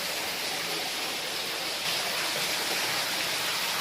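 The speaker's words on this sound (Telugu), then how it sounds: "ఆ రాళ్ళ మధ్యలోంచి అయితే పడుతుంది వాటర్" Steady, dense rush of water falling from between rocks near a Shiva temple at Thotapalli, Kakinada district, loud and close, a continuous roar with no pauses or voices.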